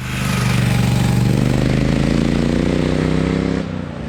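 A Triumph Speed Twin parallel-twin engine with a 270-degree crank throbs loudly and close with an uneven, lumpy exhaust beat, holding steady before easing off near the end.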